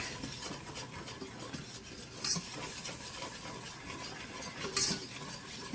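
A whisk works a margarine and flour roux in a pan for asparagus gratin, giving soft, continuous scraping and stirring strokes with a couple of sharper scrapes against the pan, quiet and close.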